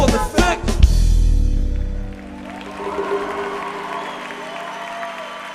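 A live concert crowd bursts into applause and a few whoops, loud and close for about two seconds before fading into a quieter hall murmur.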